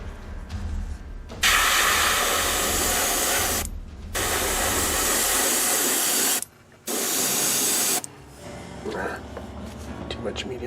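Airbrush spraying thick paint thinned with airbrush medium, three long steady hissing bursts separated by short pauses, close and loud.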